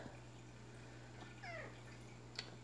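A cat gives a single short, faint meow midway, set against a low steady hum in a quiet room.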